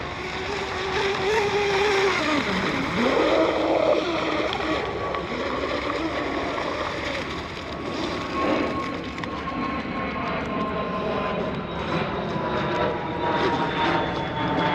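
A small carbon fiber electric RC race boat whines continuously at high pitch, its drone rising and falling as it speeds past nearby.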